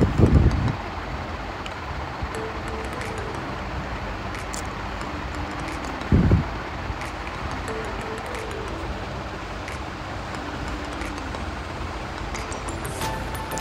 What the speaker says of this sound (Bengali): আর অসাধারণ হাওয়াও হচ্ছে, খুব সুন্দর হাওয়া হচ্ছে